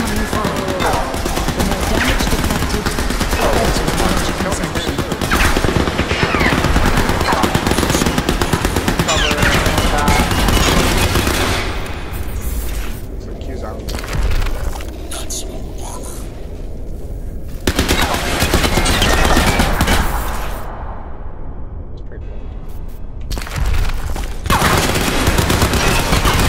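Sustained bursts of automatic gunfire rattle in Crysis 3 during nanosuit training, loud and dense, broken by a few short lulls while voices talk beneath the shooting.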